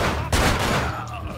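Gunfire in the video game Manhunt: a short, dense burst of shots with a sharp crack near the start, loud and close, fading into a low rumble.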